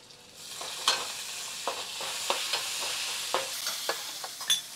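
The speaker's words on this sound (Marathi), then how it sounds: "ही आली राय, हे आले जिरं, थोडीशी हिंग आणि आपण ठेचलेला लसूण आणि हा वॉश केलेला आपला कढीपत्ता." Mustard seeds, cumin, asafoetida, crushed garlic and washed curry leaves sizzle in hot oil for a dal tempering, with steady frying hiss broken by sharp crackles and pops.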